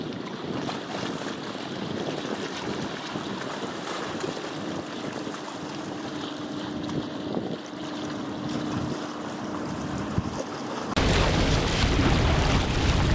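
Outdoor water sounds recorded with a Rode VideoMic and Rycote, lapping and washing under steady wind noise, growing louder and brighter near the end.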